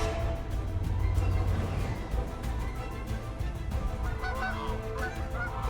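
A flock of geese honk loudly and continuously, many overlapping calls close by with a noisy outdoor background.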